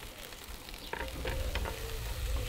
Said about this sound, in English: the onions have had a few minutes cooking down now